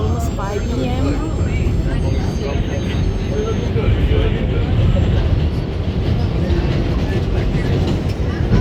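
Interior of a crowded New York City Subway 7 train in motion near 5 p.m., a loud rumbling roar of wheels and car body, with passengers' voices and faint squeals over the steady noise.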